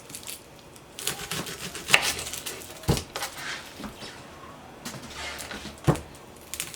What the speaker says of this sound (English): go ahead and cut the onion